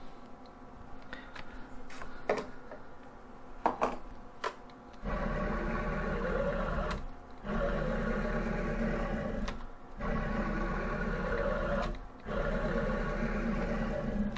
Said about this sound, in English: here's how the Chinese ball screw used to sound in the X and Y